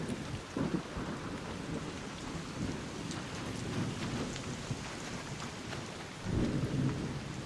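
Steady heavy rain pours throughout during an electrical storm in the video game ARC Raiders, with low thunder rumbles swelling near the start and again toward the end, fairly loud and continuous with no talking.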